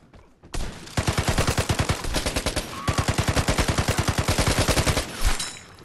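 Sustained automatic gunfire in the Vigor video game, likely an LMG, with a rapid, steady train of loud close shots lasting about five seconds before stopping.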